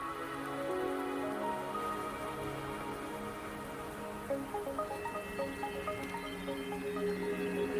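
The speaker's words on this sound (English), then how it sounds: "Don't worry, the rain won't last much longer." Steady rain patters and drips in the Wuthering Waves game world, a dense soft wash with scattered droplet taps and faint layered music beneath.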